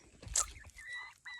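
Silkie chickens cluck in a barn with short, soft calls close by, including one sharper squawk near the start, then a few quieter clucks.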